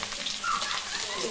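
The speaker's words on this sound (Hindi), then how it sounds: "ये सारा आलू को इसमें दे देंगे, इसको थोड़ा सा फ्राई कर लेते हैं।" Potatoes, with jackfruit already fried, frying in a pan with a steady close sizzle and crackle under faint kitchen noise.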